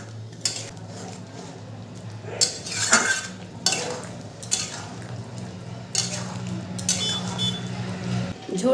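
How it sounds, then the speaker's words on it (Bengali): A spatula scrapes repeatedly through aloo posto, potatoes in poppy seed paste, as the gravy dries in a pan over a raised gas flame, making irregular close scraping strokes over a steady low burner hum with faint sizzling. "এরপর ভালো করে অনবরত নাড়তে থাকবো।"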